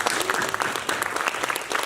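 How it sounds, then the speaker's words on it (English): Students at a school STEM night receive a round of applause, steady dense clapping from an indoor audience lasting throughout, fairly close and even in level. "we should give these guys a round of applause because excellent work"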